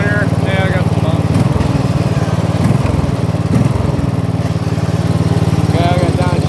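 A Murray off-road riding mower engine runs steadily close by, a loud continuous drone with small surges in pitch and a faint voice now and then underneath.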